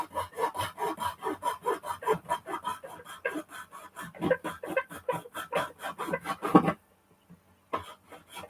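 Hand saw cutting through an scx24 Bronco RC body, a steady run of quick rhythmic back-and-forth strokes, close and fairly loud, stopping abruptly near the end before a brief resumption.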